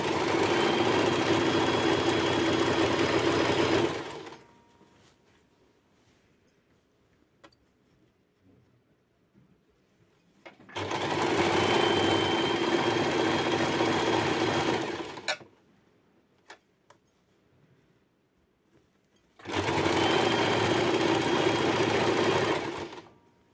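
A sewing machine stitches a fall onto a saree with a piping border in three loud, steady bursts of running, separated by quiet pauses.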